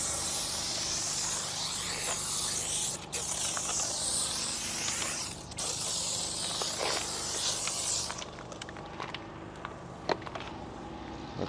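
A professional mobile detailer sprays 3D yellow degreaser in a long, steady hiss with two brief breaks before it stops, followed by faint handling clicks and rustles.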